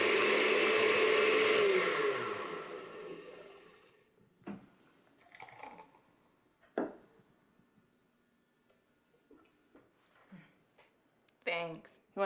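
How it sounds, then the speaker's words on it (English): A kitchen blender whirs loudly for about four seconds, then winds down and stops, leaving quiet interrupted by a few brief knocks and scattered speech. "You want to finish off the blender?"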